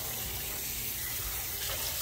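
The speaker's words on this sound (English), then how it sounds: "just gonna put some water in it so I can get this cooking" Water pouring into an Instant Pot, a steady splashing gush like a running tap that swells toward the end, no voices over it.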